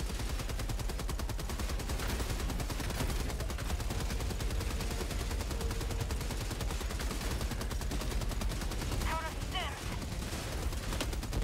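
Rapid, dense machine gun fire from a turret on a factory strider in Helldivers 2, a continuous loud rattle of bursts blending with other gunfire and battle noise throughout.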